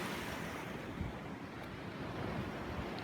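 Waves crash and splash continuously on a rocky shore, loud and close, with wind buffeting the microphone throughout and no voices.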